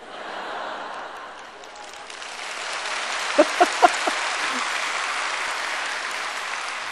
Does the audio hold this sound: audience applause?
yes